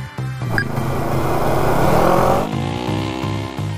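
A Polaris UTV launches off the start line of an off-road desert race, its engine roaring and revving hard as it accelerates away, loud and close, alone without talk.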